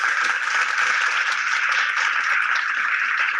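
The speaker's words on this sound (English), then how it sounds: "let's give Brad and Greeley a round of applause" Dense, steady applause from a Zoom meeting audience, a continuous wash of many overlapping claps at an even, fairly loud level with no pauses.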